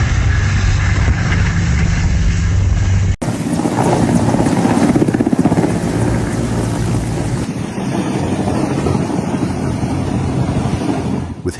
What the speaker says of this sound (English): With helicopters' lift, rotor speed, and balance all have to work together precisely.